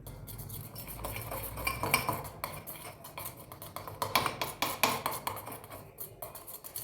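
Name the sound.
spoon mixing a face pack in a bowl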